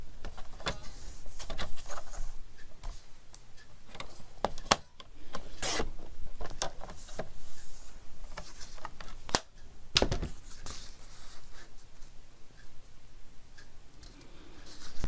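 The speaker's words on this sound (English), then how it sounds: "We're just going to cut a smidge off either side." Scissors snip a small strip off the sides of a paper page, giving close, irregular crisp cuts and rustling paper scrapes that run on alone without talk.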